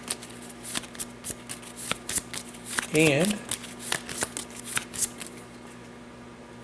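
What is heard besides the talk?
shuffling supplemental cards of a board game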